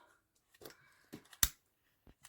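Scissors snip off leftover 3-inch ribbon from a sailor-style hair bow, a few quiet close cuts with one sharp, louder snip in the middle.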